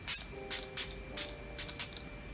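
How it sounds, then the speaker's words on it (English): Milk Hydro Grip Set and Refresh setting spray misted from its bottle in about six quick, crisp hissing bursts, close and clear, with a faint tone lingering underneath. "So to set my face, I'm going to be using the Milk Hydro Grip Set and Refresh Spray."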